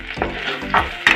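Garlic goes into a pan with onion for Maharashtrian maswadi, frying after the gas has been turned off. A steady close sizzle with brief stirring scrapes runs alone with no voices.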